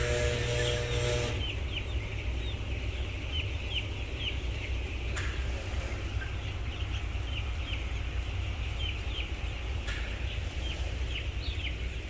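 Fifteen-day-old broiler chickens on reused rice-husk litter give scattered soft peeps and clucks over a steady background hum, faint and somewhat distant.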